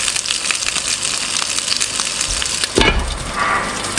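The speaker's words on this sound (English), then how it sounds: "Now, if you've got oil splattering," Frozen dumplings fry in hot splattering oil in a pan, making a loud, close, continuous sizzle with crackling pops and a brief burst of spatter near the end, with no talk.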